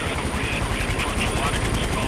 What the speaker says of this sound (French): Balais d'hélicos,